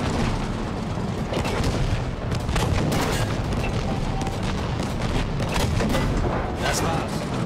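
Heavy tank cannon booms and rumbling gunfire roll through a dense battle din in Battlefield V, with a voice speaking underneath.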